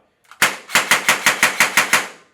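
A custom electric foam blaster with a standard motor and a tuned gearbox, running on an 11-volt battery, fires one rapid full-auto burst of about eight loud, sharp, evenly spaced shots up close.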